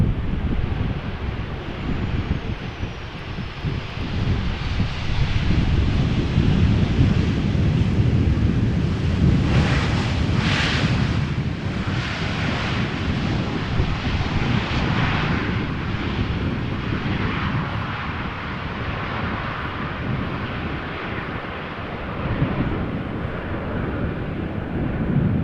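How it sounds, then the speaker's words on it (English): Boeing 737-800 and Embraer 190 jets at Amsterdam Schiphol Airport in crosswind conditions, a loud sustained engine roar building and passing overhead, with gusty wind buffeting the microphone and no talking. "And an Embraer 190 to Billund is passing over, and in the meantime an Embraer 190 from Lot is approaching."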